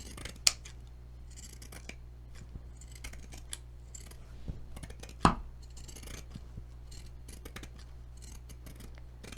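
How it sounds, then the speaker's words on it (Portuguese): Pinking shears snip through fabric while cutting out a small 30 cm doll pattern: quiet, irregular close-up cuts with two sharp, louder snaps standing out, and no talking. "E agora eu vou recortar tudo isso com a tesoura de picotar, deixando a margenzinha de meio centímetro."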